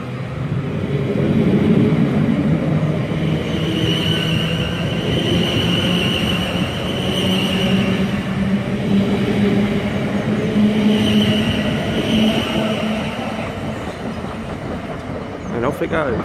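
A South Western Railway Class 450 electric train pulls away from a station, a loud, steady rolling rumble and motor hum with faint wheel clatter, close by and with no talk.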